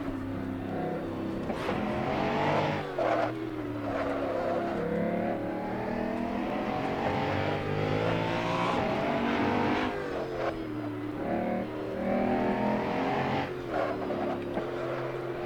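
A Koenigsegg One:1 hypercar in Assetto Corsa on the Nordschleife accelerates hard, its engine note climbing steadily through the gears with brief dips at each shift, loud and continuous for the whole stretch.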